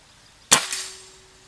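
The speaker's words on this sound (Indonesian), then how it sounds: "Langsung saja tembakan yang pertama." A single sharp shot from a Black Lava Regul GS 88 air rifle firing 13.6-grain Hercules pellets, close and crisp, with a brief metallic ring trailing off afterward in quiet surroundings.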